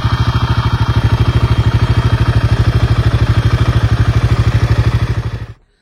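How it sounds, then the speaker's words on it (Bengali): Royal Enfield Himalayan 450 engine running with a knocking sound from the cylinder head, a fast, even, loud mechanical tapping over the idle that continues steadily, then stops abruptly as the engine cuts off near the end. "ইঞ্জিনের হেড থেকে একটা নকিং সাউন্ড আসছে"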